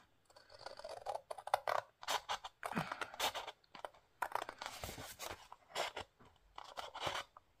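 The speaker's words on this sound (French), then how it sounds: "On va prendre les ciseaux." Scissors snip and crunch through paper in a quick series of sharp, irregular cuts, close and fairly loud with brief pauses between.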